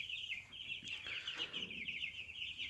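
Cobb 500 broiler chicks in a brooder cheeping steadily, a continuous high-pitched peeping from a small flock, faint and fairly close, with no voices.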